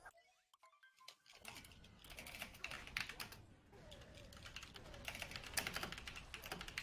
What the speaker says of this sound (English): that's Cheese James furiously typing